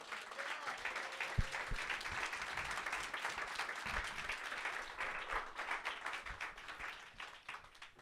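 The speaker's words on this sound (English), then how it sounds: "give a warm round of applause" Audience at a spoken-word evening applauds a performer coming to the stage, a steady wash of many hands clapping that tapers off toward the end.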